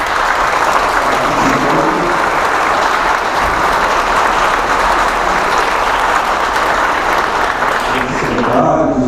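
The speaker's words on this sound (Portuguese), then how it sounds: "uma grande salva de palmas a todos os presidentes das associações" Audience applause at a tribute ceremony fills the room, a loud, continuous burst of clapping from many hands that starts at full strength and carries on throughout.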